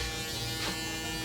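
Rebel electric shaver buzzing steadily and close during a haircut taper, a continuous electric hum with a slight rise in intensity midway, no talking.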